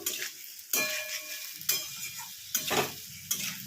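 Vegetables for a papaya malaikari are stirred in a pan, with four distinct scraping stir strokes over a soft background sizzle, close up and without speech.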